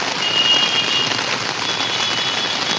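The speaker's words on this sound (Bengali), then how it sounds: "হঠাৎ করে বিকেলের পর থেকে এরকম বৃষ্টি, মারাত্মক বৃষ্টি" Heavy rain pours down at night in Kolkata, a steady, dense hiss of drops on surfaces with no breaks, close and even throughout.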